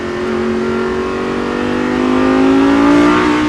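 A Lamborghini Gallardo on a race circuit during a driving course, its engine note climbing steadily as the car accelerates under light throttle, loud and close for the full stretch.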